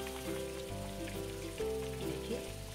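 Sabudana vadas frying in hot oil, a steady, dense sizzle and crackle that runs unbroken and close, with faint bubbling and low background hum.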